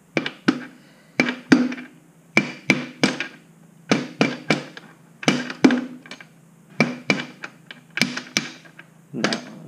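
Sharp metallic blows from a hammer drive a bolt out of a Yamaha YZ85 motorcycle frame. Close, loud strikes land in quick clusters of two or three, again and again, each ringing briefly.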